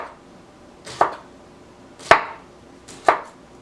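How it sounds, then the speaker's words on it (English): Knife slicing halved Brussels sprouts thinly on a cutting board, three crisp, separate cuts about a second apart, close and clear against a quiet kitchen. "chop them in half again, and give them a quick, thin"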